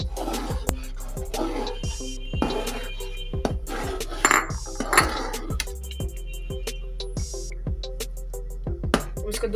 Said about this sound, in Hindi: इस तरह से चम्मच को बराबर हिलाते रहें।